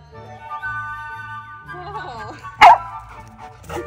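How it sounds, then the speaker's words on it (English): A dog barks at a delivery driver, one sharp, loud bark near the end that cuts through ongoing chatter and other voices in a household setting. "You're just gonna bark at him?"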